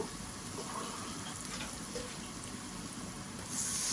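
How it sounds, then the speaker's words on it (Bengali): Water splashing steadily into a pan of Bengali rohu fish curry with garden tomatoes, a continuous close hiss of pouring liquid running throughout. "এখন আমি সামান্য পানি দিলাম"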